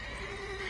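Short, loud whinny from a mare in The Witcher 3 video game, a single bright neigh with a wavering pitch lasting under a second.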